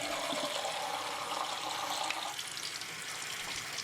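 Tap water running steadily into a sink while makeup brushes are rinsed of soap and oil, a close, continuous hiss and splash that changes tone slightly partway through, with no talking.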